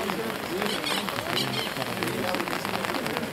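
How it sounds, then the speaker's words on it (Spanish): Steady rain falling on an outdoor rugby pitch during a match, a constant hiss of drops under a commentator's voice and crowd shouts. "Con toda esta lluvia."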